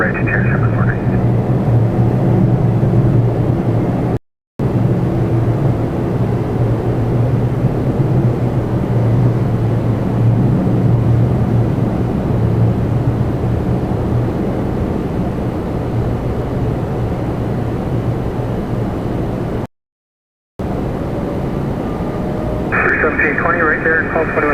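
A Jazz airliner takes off from runway 24 right at Toronto Pearson with a steady, loud engine roar that holds throughout, briefly cut out twice, while radio voices talk over it.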